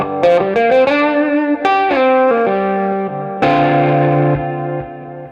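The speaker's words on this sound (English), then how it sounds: "So let's go ahead and add in the Echoplex." An electric guitar played through a Marshall amp with an Echoplex rings out in sustained, distorted melodic notes and bends, each phrase trailing into echo, loud and alone.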